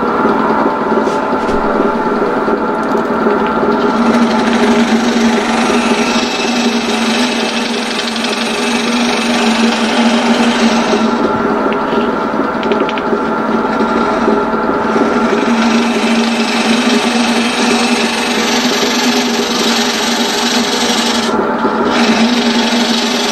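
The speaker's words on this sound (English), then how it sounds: "I'm going to try a scraper" A scraper works against spinning wood on a lathe in a home shed, producing a steady, close rasping scrape over a constant motor hum, with brief shifts in pressure and no talk.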